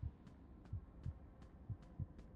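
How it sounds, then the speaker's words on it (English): A low, muffled heartbeat pulses in a video game, steady and fairly quick. It thumps softly and evenly through a faint background hum, with no voices. "My heartbeat's going up. Hear that?"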